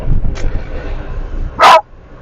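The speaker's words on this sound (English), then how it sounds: "Patch, no barking, please" A single sharp dog bark rings out close by after a faint earlier yip, with quiet room noise between.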